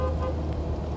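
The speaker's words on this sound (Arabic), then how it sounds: "الهرن مالها صح وينه؟" A car horn gives a short, steady, close toot lasting about a second, over low engine and road rumble.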